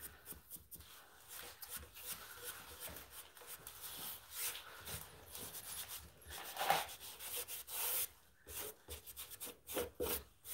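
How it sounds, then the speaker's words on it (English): Color wash paint rubbed onto a surface with a brush or rag, soft scrubbing and rasping strokes in uneven bursts, fairly quiet and close, with no talking. "I'm just making sure that all of my rubbing is in the same direction."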